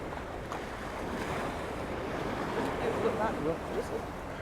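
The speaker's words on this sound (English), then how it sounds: "I just noticed a big splash of wave going up over the seawall in front of us." Waves surge and splash against a harbour seawall at Port d'Andratx, Mallorca, heard as a low, steady wash with wind noise, swelling slightly partway through, while a voice talks faintly.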